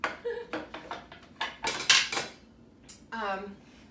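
A cutting board being pulled out in a home kitchen while making steak tartare: a run of clattering knocks, scrapes and clunks of boards and utensils, close and fairly loud, ending in a longer scraping slide.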